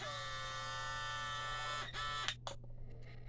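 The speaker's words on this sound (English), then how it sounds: "Okay, and then you hit the button." A vacuum sealer whirs with a steady mechanical hum, then cuts off with a few clicks and stutters before a quieter hiss, close up and without talk.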